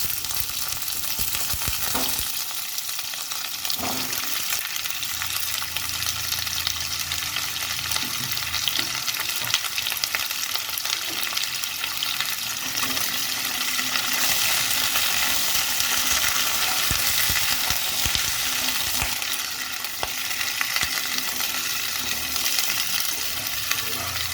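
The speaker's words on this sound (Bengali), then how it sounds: "সবজিগুলো আমি একবারেই ছাড়লাম, ভালো করে ভাজা করে নেব" Potatoes, turnips, beans, tomatoes and drumsticks frying together in oil in a pan, a dense continuous sizzle and hiss close by, with occasional stirring clatter and bursts of louder spitting.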